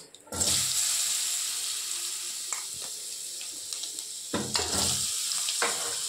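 Potatoes dropped into a hot wok over cumin tempering hiss and sizzle in sharp bursts near the start and again later, with a continuous frying crackle in between.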